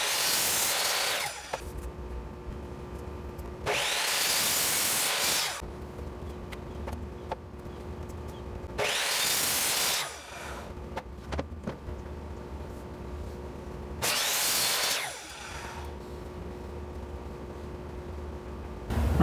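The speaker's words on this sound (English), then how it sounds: "So let's cut that on the miter saw." A miter saw cuts through a 2x4 board in four separate bursts, each loud buzzing pass lasting a couple of seconds and spun down between cuts, with quieter clatter and handling noise in the gaps.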